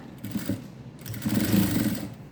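A sewing machine runs in two bursts while stitching along the neck edge of a blouse, a steady close whirring hum that pauses briefly and then resumes louder, with no talk over it.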